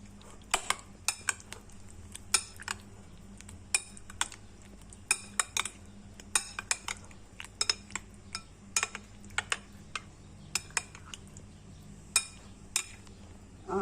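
Sweet dahi baray being stirred in a bowl, a spoon giving repeated light clinks and taps against the dish at an irregular, steady pace, close up with no talking.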